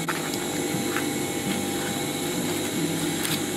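A sewing machine stitching a curved edge or corner, giving a busy mechanical whir with rapid ratcheting clicks and a few sharper ticks over about three seconds, close and moderately loud, with no voices.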